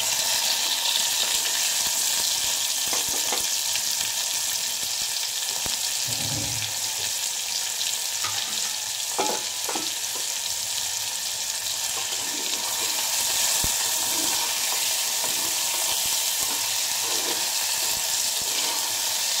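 Potato and drumstick flowers sizzle steadily in a hot pan, a broad constant frying hiss broken by occasional scraping knocks of a spatula as the mixture is stirred; no talking.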